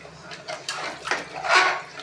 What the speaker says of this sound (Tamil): தண்ணி ஆட் பண்ணிவிட்டு ஒரு கலக்கி விட்டுலாம்.